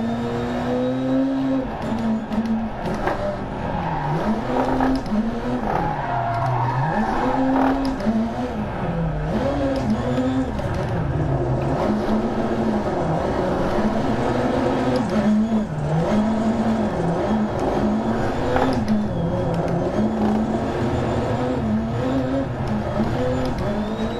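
A Ford Fiesta MK8 RX Supercar in DiRT Rally 2.0, its engine droning loud and close throughout with pitch rising and falling as the car accelerates, shifts and slides through corners, with tyre and gravel noise.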